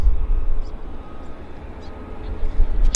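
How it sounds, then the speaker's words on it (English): Lockheed U-2 spy plane flying at Vancouver airport, a steady broadband engine roar and rumble heard continuously at moderate distance with no talk. "Oh, U-2 spy plane."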